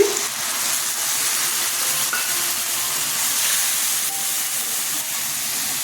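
Onion and spices tipped into a hot frying pan for a fish-head murighanta set up a loud, continuous sizzle and hiss, close by and steady, with faint stirring scrapes and no talk.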